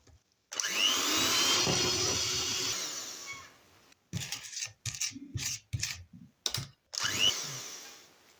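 Electric mixer whisking waffle roll batter in a bowl as butter and flour go in, a steady loud whirr for about two and a half seconds, then short bursts of mixing starting and stopping.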